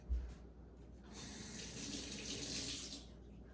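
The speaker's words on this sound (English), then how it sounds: "I'm just gonna add a little bit of water to this so that way it doesn't stick to the lemon squares" Water running from a kitchen tap while preparing lemon squares, a steady rushing stream that starts after a brief clatter and flows for a few seconds before cutting off.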